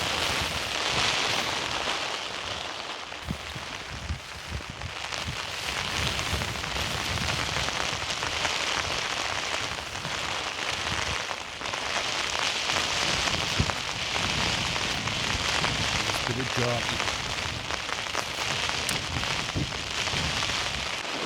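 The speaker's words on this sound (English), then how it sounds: "But listen to this rain coming down." Heavy rain drums steadily on a camping tent during a windy night in the mountains of the Lake District, a dense, continuous close patter that stays loud and unbroken throughout.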